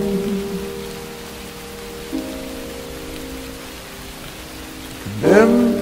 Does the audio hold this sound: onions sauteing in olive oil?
no